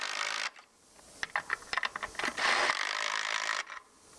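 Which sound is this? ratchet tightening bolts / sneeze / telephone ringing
ratchet tightening bolts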